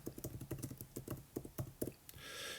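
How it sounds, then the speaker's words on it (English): Quick fingertip taps and typing on an iPad touchscreen, a close, irregular patter of light clicks in short bursts, ending with a soft hiss. "I just tap on the screen and I can start to type away"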